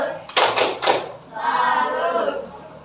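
An Indonesian classroom does the tepuk salut clapping routine, with three sharp claps followed by a longer burst of group clapping and voices.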